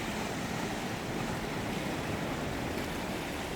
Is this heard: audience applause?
no